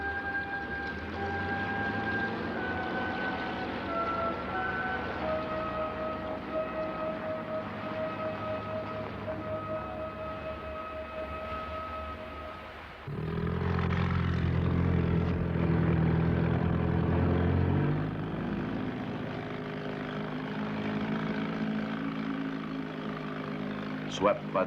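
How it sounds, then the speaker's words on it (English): A Catalina seaplane comes in to land on a lake, its engines droning steadily with shifting tones that swell louder partway through, while a voice narrates over it. "Philippe brings the Catalina into a landing"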